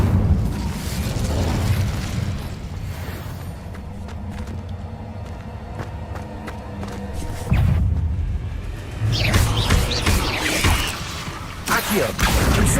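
Fire bursts from the Incendio spell in Hogwarts Legacy, deep booming whooshes and crackling flame that swell, fade, then flare again loudly, with a voice speaking over parts of it.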